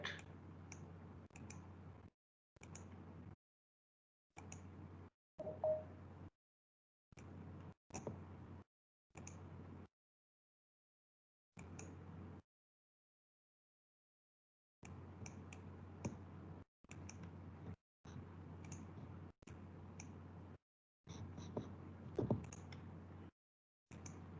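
Sharp, isolated computer mouse clicks come in short bursts separated by silent gaps during GIS vertex editing, close and quiet.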